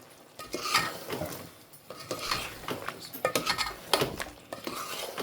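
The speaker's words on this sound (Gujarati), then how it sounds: "ચાલો મિક્સ કરી લઈએ આપણે" Raw mango pickle ingredients are stirred in a bowl with a spoon, giving irregular scraping and clinking of metal against the dish while someone talks over it.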